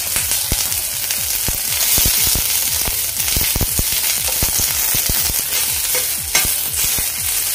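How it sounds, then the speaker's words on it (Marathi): Two medium onions, sliced lengthwise, frying in hot oil for a Khandeshi-style shev bhaji curry: continuous close sizzling and crackling broken by repeated sharp clatters of stirring in the pan. "इथे मी 2 मीडियम साईजचे कांदे उभे चिरून घेतले, ते मी आता तेलावर भाजून घेते"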